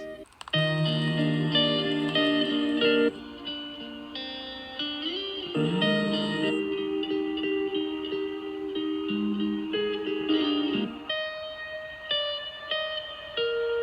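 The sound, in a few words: three layered guitar loops playing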